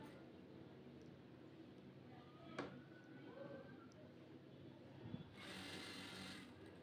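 Sewing machine stitching the lining of a blouse, running in a steady, continuous faint whir, with a brief click midway and a slightly brighter patch near the end.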